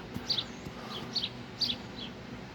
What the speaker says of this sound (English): These birds like take over this place, man.